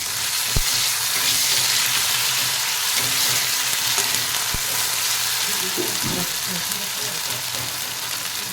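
Ginger garlic paste stirred with fried onions in a pan for a drumstick, potato and fish curry, a steady loud sizzle with sharp spoon knocks against the pan, no talking.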